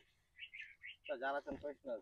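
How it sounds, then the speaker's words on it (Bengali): Small birds give a few short high chirps, then a voice speaks loudly close by, with more faint chirping mixed in. "পাখি পাখি ছোট ছোট।"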